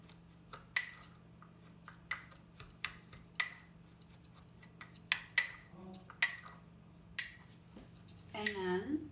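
Spoon stirring cinnamon topping in a small ramekin, a string of sharp, close clinks and scrapes against the dish at an uneven rhythm, with no talk.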